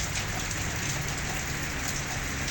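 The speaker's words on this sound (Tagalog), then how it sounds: "Ayan, heavy rain on Dubai." Heavy rain pours down in Dubai, a dense, constant hiss of falling water drumming on surfaces, close and loud without a break, with no voices.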